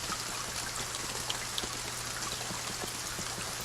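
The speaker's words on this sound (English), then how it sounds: "Sounds of rain is vaguely relaxing." Steady rain falls in the video game Kingdom Two Crowns, a dense continuous hiss of droplets with a trickling, watery texture and a faint low hum beneath, unbroken and without any talking.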